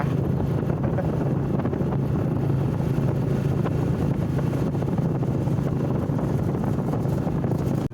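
Heavy wind buffets a microphone while riding a motorcycle through cold air of about seven to eight degrees in Sam Neua, Laos, a constant loud rushing roar with low gusty rumble and no speech.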